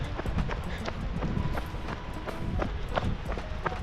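Horses' hooves clip-clop along a hiking trail with an irregular, close rhythm of dull thuds over a rumbling background.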